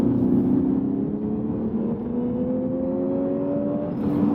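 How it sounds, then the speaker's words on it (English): A Lexus RC 200t engine revving under acceleration in Sport Plus mode, a steady loud cabin drone with rising tones climbing gradually as speed builds, heard from inside the car with no talking. "Now I'm in Sport Plus with that on, so let's hit the gas again"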